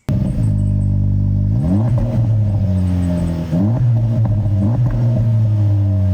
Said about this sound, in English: It actually works and has a great sounding exhaust.